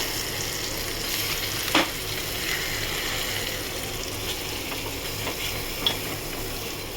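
Rohu-style fish curry simmering uncovered in a pan gives a steady soft sizzle and bubbling throughout, with a couple of brief utensil clinks and stirring scrapes near the start and end.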